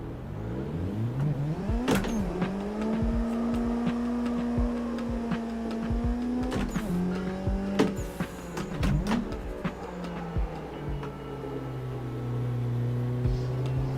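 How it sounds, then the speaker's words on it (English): Race car drifting in Assetto Corsa, a loud steady engine drone with shifting revs and sharp clicks and bursts, tire scrub blended in, heard alone without talk. "Try to get some proximity before I start my drift."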